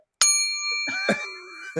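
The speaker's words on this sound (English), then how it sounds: "This is a Clase Azul Reposado, and it's got a little bell on top." A small bell on the stopper of a Clase Azul Reposado tequila bottle rings once with a clear sustained ding, followed by a softer jingle and a final faint tap as it settles.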